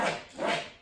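A dog gives two brief, muffled barks or whimpers in quick succession, somewhat distant and faint against a kitchen background.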